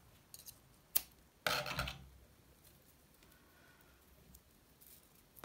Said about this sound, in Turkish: Şuradaki fazlalık ipi kesiyorum.